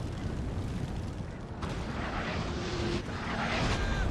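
Artillery fire during a siege battle in the Napoleon: Total War game, heard as a dense, continuous rumble of booming cannon shots with sharper blasts near the middle and end, steady and loud throughout.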